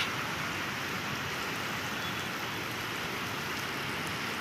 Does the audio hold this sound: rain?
yes